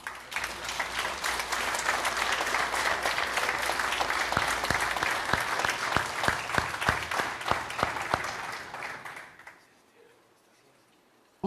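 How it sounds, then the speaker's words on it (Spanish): A church congregation applauds during a sermon, a sustained burst of clapping with distinct individual claps growing more prominent, then quickly dying away into near silence for the last two seconds. "Podemos aplaudirle al Señor."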